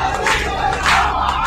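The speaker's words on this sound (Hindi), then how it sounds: "भीड़ जमा हो गई।" A large crowd gathered at a temple roars and shouts together, a loud, close, continuous mass of voices with rising surges.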